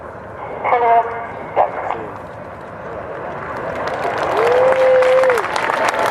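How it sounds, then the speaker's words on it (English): An air show crowd at Farnborough applauds, the clapping swelling into a broad wash over the second half after brief announcer speech over the PA, with a short whistle-like tone partway through. "If we can please have a big round of applause"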